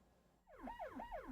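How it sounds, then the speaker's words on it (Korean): A 119 ambulance siren on an emergency call to a reported traffic accident wails in repeated rising and falling sweeps, starting abruptly and growing loud, with no voices. "교통사고 신고를 받고 긴급 출동 중인 119 구급차"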